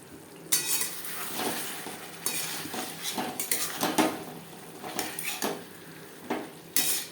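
Spices sautéed on a low flame for a fish curry, with repeated scraping and clanking of a metal spoon against the pot over a faint sizzle, close and irregular.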